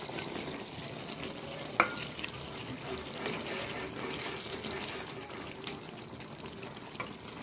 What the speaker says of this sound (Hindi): अब हम इसमें मटर डाल दे रहे हैं,